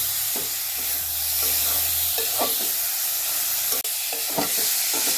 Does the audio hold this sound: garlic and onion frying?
yes